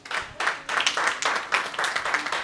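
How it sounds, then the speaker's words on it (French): A crowd at an International Day of Peace celebration applauds for children, with lively, dense clapping in uneven surges throughout, close and fairly loud, with no voices on top. "Est-ce qu'on peut applaudir pour les enfants?"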